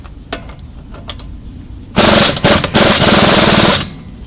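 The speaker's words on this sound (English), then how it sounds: "Now if you don't have an impact gun, do this on the ground first" A pneumatic impact gun rattles hard on a front strut bolt of a Ford Escape, Mercury Mariner or Mazda Tribute, very loud and close, running in a couple of bursts for nearly two seconds after a few quieter clicks and handling sounds.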